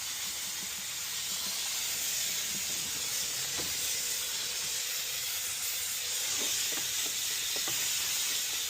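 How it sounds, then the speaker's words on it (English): Steam cleaner hisses continuously while cleaning the floor of a lorry cab interior, a steady close, loud spray with faint knocks and movement underneath. "We've steamed the floor as well."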